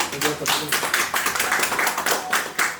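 A congregation at a funeral service in Paris claps and cheers in steady rhythmic bursts, with overlapping voices raised throughout the short stretch.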